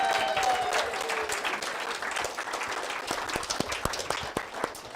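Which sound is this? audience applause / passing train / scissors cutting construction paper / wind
audience applause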